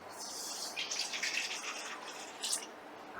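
Water pours in a short, bright, splashy stream into a cooking pot, starting and stopping within a few seconds, close by and soft.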